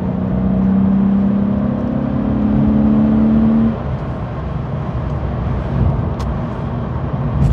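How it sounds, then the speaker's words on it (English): A Porsche 911 993 Carrera 4 engine idles and hums steadily up close, with a slight rise in revs early on before settling into an even, throaty drone. "Just thought I'd shut up there and let you hear the engine."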